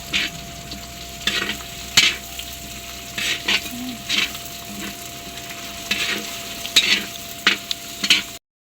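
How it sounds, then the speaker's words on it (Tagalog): Pork fat sautéing with onion in a hot pan, steady sizzling under repeated scraping strokes of a spatula in an irregular rhythm, close and fairly loud. "Isasabay na din pong igisa yung taba na panlahok."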